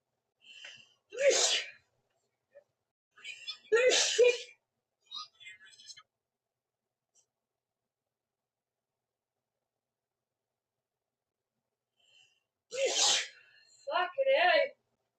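A fit of sharp, explosive sneezes breaks through near silence: two close bursts at the start, softer breathy sounds after, then a long quiet gap before two more sneezes at the end.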